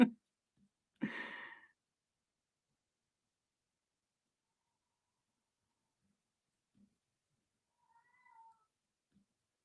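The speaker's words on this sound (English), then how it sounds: "I'm going to go and feed the cat before she dies of hunger." A hungry cat gives a single close, clear meow in a quiet room, then a faint short chirp comes a few seconds later.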